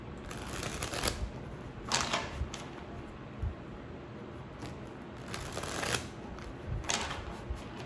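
Soft bursts of tarot cards being shuffled, several short riffles spaced a second or two apart against quiet room hiss.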